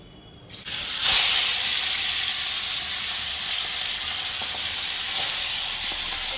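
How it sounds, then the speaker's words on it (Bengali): Two pieces of fish coated with lemon, chilli powder, cumin powder and coriander powder hit hot oil and burst into a loud, close, continuous sizzle that holds steady. "এই দু পিস মাছে লেবু লঙ্কা গুঁড়ো একটু জিরে গুঁড়ো ধনে গুঁড়ো সব দিয়ে আর ভাজা খাবো"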